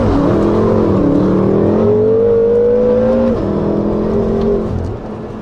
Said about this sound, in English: The Armitrix exhaust system is by far my favorite upgrade on the car.